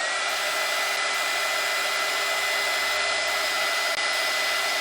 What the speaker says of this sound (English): I'm gonna hit that with a dryer so that we can put a little bit of glue on top of that.